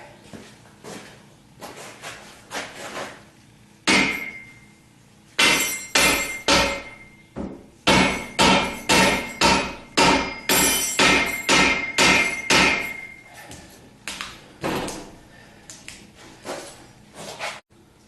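Hammer blows striking a hydraulic cylinder from a Direct Lift Pro Park 8S parking lift during repair, a series of sharp metallic impacts, sparse at first then a rapid steady run of about a dozen loud hits before tapering off.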